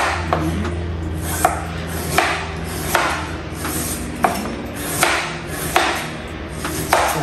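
A knife chops fresh ginger on a cutting board while chicken steamed with scallion and ginger is prepared: close, crisp, fairly regular strikes about every three-quarters of a second, with no talk.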